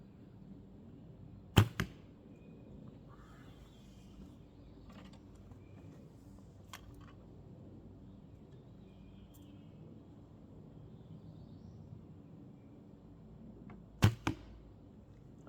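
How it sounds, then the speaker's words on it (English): A 56-pound traditional bow is shot at a turkey target, giving two sharp, loud releases about twelve seconds apart, each a crisp snap followed by a quick thump, with quiet outdoor ambience in between. "So we're just gonna shoot the turkey, but you can hear just the bow this time."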